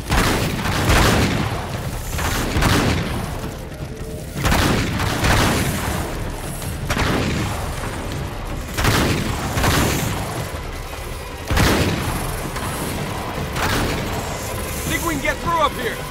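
Repeated gunfire and heavy explosions in an action video game, sharp booming bursts every couple of seconds over a constant rumble of battle, with voices shouting in between.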